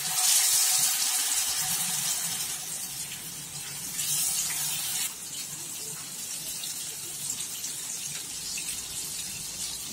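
Fish tikka pieces frying in hot oil in a kadai give a steady, dense sizzle that holds close and fairly loud throughout, with a brief swell of crackling near the start.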